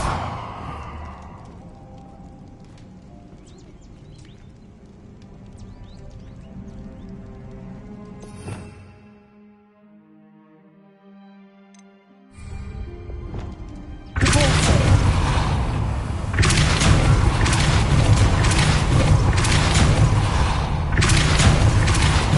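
A Bombarda blasting spell explosion in Hogwarts Legacy, a sharp thud near the middle of quiet magical ambience, followed by a sustained loud, dense roar of rumbling and crackling that fills the rest of the clip.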